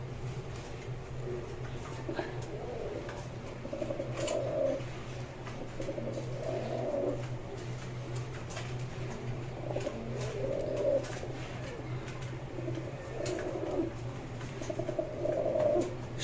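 A male snake-eye pigeon coos repeatedly in soft, low, rolling phrases every couple of seconds, close by over a steady background hum.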